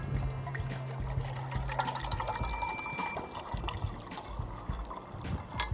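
Water pours steadily into a metal cup, a continuous trickling splash with a faint low hum beneath it, close by.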